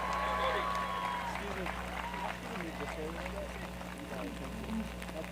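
Graduation-ceremony audience applauding a student earning a degree at a Kapaa High commencement, a steady, fairly faint wash of clapping carrying on throughout with a low hum and some background murmur.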